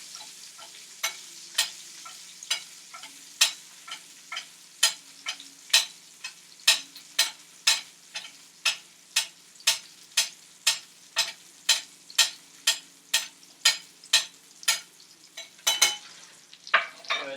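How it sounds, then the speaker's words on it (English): Salmon pan-searing in a hot pan, a continuous sizzle broken by a steady run of sharp, evenly spaced spoon taps and splashes as fat is basted over the fish, close and clear. "Go ahead and baste the other side as well"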